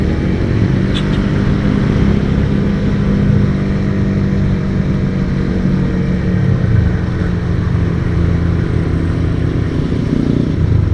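A Suzuki Satria motorcycle engine runs loud and close, a steady throbbing drone with a rough low hum that holds at an even level throughout, with little rise or fall and no voices over it.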